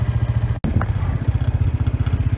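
A four-wheeler ATV engine chugs near and loud while clearing fallen trees and branches off electric pasture fences, a steady pulsing low putter that cuts out for an instant and resumes at the same rhythm.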